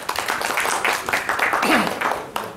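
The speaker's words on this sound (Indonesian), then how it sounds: "kita kasih aplaus untuk Bapak Yamin." Seminar audience at an Indonesian internet governance forum clapping for an introduced panel speaker, a brief burst of applause mixed with some overlapping voices.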